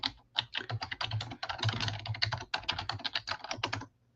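Rapid, steady typing on a computer keyboard, close and fairly loud, with dense clusters of keystrokes, a brief pause near the start and another midway, and no talking over it.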